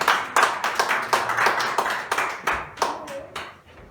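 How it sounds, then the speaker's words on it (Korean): A church congregation at a Korean Sunday worship service applauds newly appointed church officers with quick bursts of hand clapping in an uneven rhythm, close and fairly loud, with faint voices underneath. "박수로 축하드립니다"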